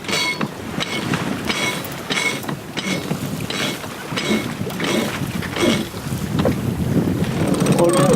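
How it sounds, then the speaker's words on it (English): A sailing yacht runs wing and wing in very light wind on an ocean passage toward the equator, with a steady wash of water and wind noise and soft rhythmic surges of the hull moving through low swell. "here we are, sailing wing and wing, with a very light wind, heading for the equator"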